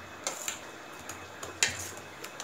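A spoon clinks and scrapes against a bowl while cucumber raita with roasted cumin powder is mixed, giving a few light, irregular taps and clicks at close range in a quiet kitchen.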